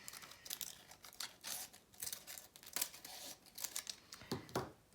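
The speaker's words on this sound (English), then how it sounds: "I'm just going to cut up through there" Scissors trim excess paper from a layered Chinese paper lantern, giving close, crisp snips and papery crinkles in an irregular run with no voices.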